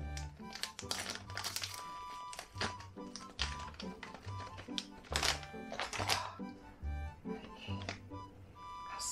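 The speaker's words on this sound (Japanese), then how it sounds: "ハサミで切って" Scissors cut through the crinkly packaging of a Pikachu snack close up, producing a series of sharp snips and plastic crackles with uneven rhythm. The sounds are fairly quiet and there is no talking.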